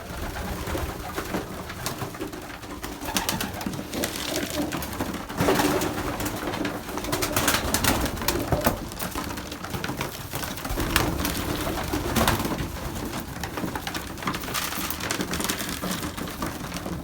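Hungry pigeons in a loft coo steadily during feeding, a dense, continuous chorus of many birds close by, with soft rustling and faint patter underneath and no talk.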